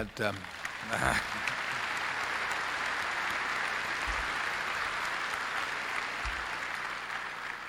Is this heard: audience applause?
yes